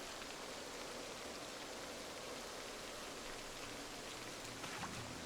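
Rain falls steadily in a survival game, an even hissing wash of drops that stays constant throughout, faint and unbroken, with no voices.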